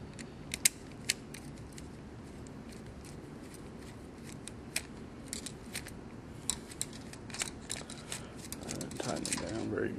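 A screwdriver tightens a screw on a switch and receptacle combination device, producing sparse clicks and small ratcheting scrapes, close and fairly faint.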